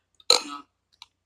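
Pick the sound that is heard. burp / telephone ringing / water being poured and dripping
burp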